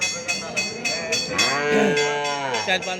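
Sahiwal cattle at a Bangladeshi cattle market give a loud, close, drawn-out moo that rises and falls, with a faint cowbell and a brief murmur of voices in the background.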